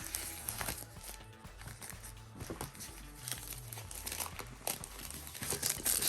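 Plastic wrapping on a boxed pair of Life Q35 wireless noise-canceling headphones is crinkled and pulled during unwrapping, giving close, irregular crackling and rustling bursts with a few soft thumps.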